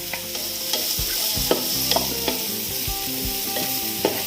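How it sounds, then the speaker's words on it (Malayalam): Carrots stir-frying in sunflower oil over a high flame for vegetable fried rice, a steady close sizzle broken by scraping spatula strokes and clinks against the pan, with no voices. "ഹൈ ഫ്ലെയിമിലിട്ടാണ് ഇത് വേവിക്കുന്നത്."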